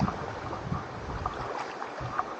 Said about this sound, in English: So Marta is helping me to cross the river.